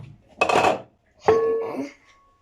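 A cooking pot is set down on a home stove while making sulu köfte, giving two clattering metallic knocks about a second apart, close and fairly loud with no talk.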